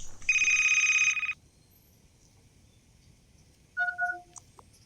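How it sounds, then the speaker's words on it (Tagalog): A cellphone rings with an incoming call: a loud, sustained electronic ringtone for about a second, then quiet room tone, then a few short, higher beeping tones near the end, with no talking. "May tumatawag sa cellphone ko."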